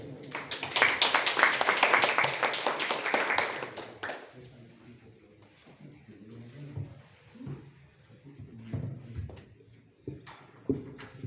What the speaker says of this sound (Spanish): Entonces recibamos con fuertes aplausos al escritor Daniel Sáez More.